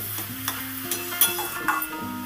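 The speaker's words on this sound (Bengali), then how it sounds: "আমি পেঁপেটাকে মশলার সাথে খুব সুন্দর করে নেড়ে চেড়ে মিশিয়ে দেব" Chopped papaya stirred with spices in a dry pan for a vegetarian curry, a brief run of close spoon scrapes and clinks over a soft sizzle, no voices.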